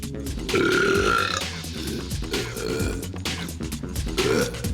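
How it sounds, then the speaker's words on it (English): A long, loud, deep burp rumbles out, followed by a second, shorter belch a few seconds later. "A fine belch, a truly magnificent eruption."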